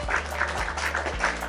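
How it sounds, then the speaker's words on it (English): Steady audience applause greets a speaker at a Ghana finance panel event, a fairly even patter of many hands at moderate level with a low room hum beneath. "Everyone, with a rousing applause, please welcome with me"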